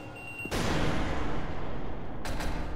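Enemy gunfire in the Portal Revolution video game: a sudden loud burst of rapid shots kicks in and rattles on continuously, dense and close, then keeps going steadily to the end with no voices.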